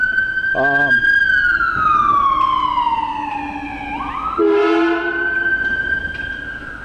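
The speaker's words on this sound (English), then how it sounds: "Plattsburgh Fire Department ambulance." A loud wailing fire department ambulance siren sweeps slowly down and back up nearby, with a short honking blare partway through.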